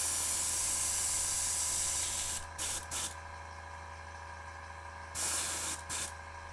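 Paint spraying from an airbrush or spray gun, a steady hiss that runs for a couple of seconds, then several short bursts of spray, close and fairly quiet.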